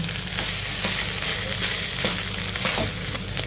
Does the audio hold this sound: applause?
no